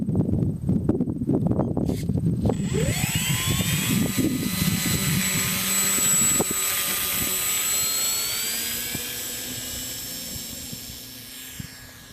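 Electric motor of an E-flite Hawker Hurricane model plane whining as it lands, a steady tone that shifts upward with a throttle burst after touchdown, over earlier rustling wind and ground noise, fading toward the end.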